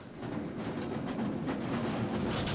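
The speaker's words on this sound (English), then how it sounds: "Train." A train rolls past in the Costume Quest video game, a continuous rumbling clatter that holds at a steady, moderately loud level for the whole stretch with no voices.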